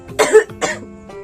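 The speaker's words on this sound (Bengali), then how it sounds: "প্রচন্ড কাশি হয়েছে" A woman with a severe cough lets out two loud, harsh coughs close to the mic, followed by a softer trailing breath.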